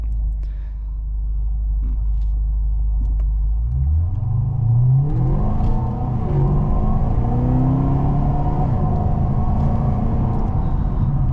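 A rare HSV WN Grange accelerates hard while racing a Kluger, its engine rising from a low idle rumble into a loud, sustained climbing roar that sweeps upward through the gears, heard close from inside the car with no talk.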